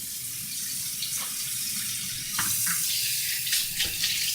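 Hot tap water pours steadily into a kitchen sink for washing dishes, a loud continuous close rush with a few splashy bursts as the stream hits.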